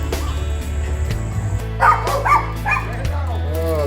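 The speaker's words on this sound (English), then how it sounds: "you can already hear our friends right there, the Lassie's friends, the dogs" Several dogs bark and yip excitedly in short bursts at a backyard barbecue, their calls rising over a steady low hum with a voice talking nearby.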